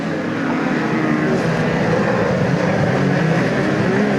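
A midget race car at Ruapuna Park speedway roars from a distance at full throttle, a loud, sustained engine drone that stays steady throughout with no voices.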